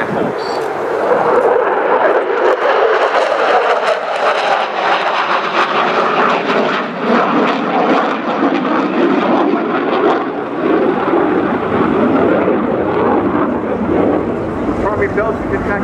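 An F-16A fighter jet engine roars loud and sustained during a demonstration flight, its pitch sweeping as the aircraft passes, with speech audible over it.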